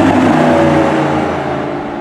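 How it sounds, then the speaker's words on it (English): A Mercedes SLS AMG engine revs loudly in a steady, strongly tonal roar that eases off slightly over two seconds, with no other sounds alongside it. "I can't believe how much it sounds like a real exotic car"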